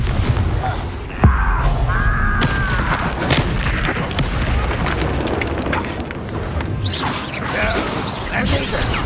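Confringo fire spell explosion from Hogwarts Legacy, a sharp boom near the start followed by crackling, whooshing magical effects and game sounds over a dense, busy background.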